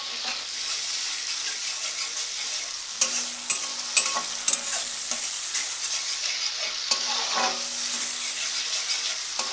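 Chicken 65 frying with red chilli sauce, a loud, steady hissing sizzle close up, broken by several sharp scrapes and clicks of a spoon stirring the pan.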